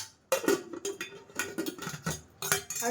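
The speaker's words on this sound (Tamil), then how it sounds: "இதை மூடி வச்சுருவோம்." Metal kitchen clatter as a pot of curry is covered with its lid and utensils are handled, a series of sharp clinks and scrapes in quick bursts with short pauses, nearby and fairly loud.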